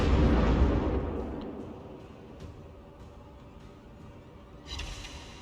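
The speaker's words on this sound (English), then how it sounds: "There's the salvo from the Montana, angling into narrow profile." Battleship Montana firing a main-gun salvo in a naval warfare game, a heavy booming blast at the start that rolls and fades into a low rumble, followed by a smaller distant report near the end.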